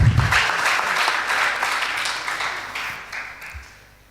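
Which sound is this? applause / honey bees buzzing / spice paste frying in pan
applause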